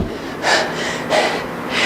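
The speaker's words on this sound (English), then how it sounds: "And my heavy breathing, I apologize." Heavy breathing during a workout: close, loud, rhythmic exhales or gasps come roughly every half second, each a rough breathy burst.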